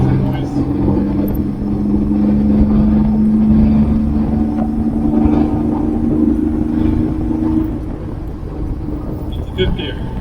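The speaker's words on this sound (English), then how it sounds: "Weber's sucking a little bit of induction noise" An MGB with a V6 conversion breathing through a Weber carburettor gives a steady engine drone and low intake rumble while driving in fourth gear, close and continuous, easing slightly near the end.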